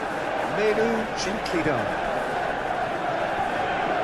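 Simulated football crowd from PES 21 during a Manchester United versus Brentford Premier League match, a steady broad roar of spectators held at an even level throughout, with a commentator's voice speaking briefly over it.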